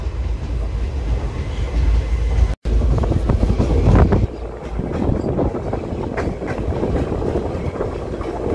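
The Silchar Express rolls out of Cooch Behar station, a loud, steady rumble of wheels with rhythmic clickety-clack and wind buffeting on the microphone, continuous throughout.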